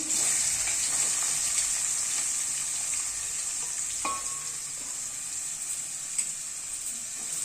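Cumin and tempering spices fry in hot oil for a Telangana-style bitter gourd curry, giving a steady, close sizzle with faint stirring clicks and a sharper tap around the middle.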